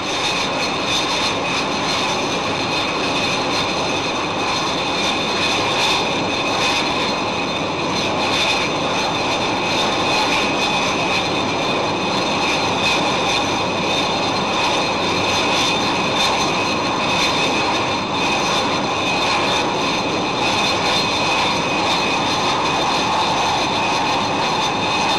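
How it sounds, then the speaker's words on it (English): Blackburn Buccaneer and Supermarine Scimitar naval jets during in-flight refuelling at around 300 miles an hour, a loud, unbroken jet-engine roar with a steady high whine that holds without a break for the whole stretch. "Tanks topped up, the Buccaneers pick up speed"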